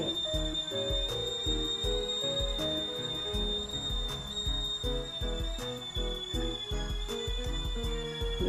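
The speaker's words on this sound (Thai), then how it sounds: "เสียงแล้วนี่กาต้มน้ำนกหวีด" A whistling kettle on a gas stove lets out a steady, high, shrill whistle that holds for several seconds over rhythmic background music.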